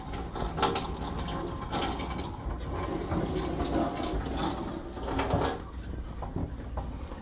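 Water rushes steadily through a GE single-stage faucet filter, with a constant hiss and faint mechanical rattling throughout.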